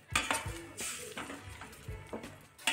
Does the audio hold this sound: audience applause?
no